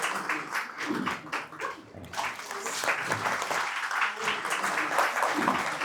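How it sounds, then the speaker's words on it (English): Audience applause for a guest in a conference hall at a university event, a steady wash of clapping lasting several seconds with voices mixed in throughout. "I would like to have a round of applause for our guest today."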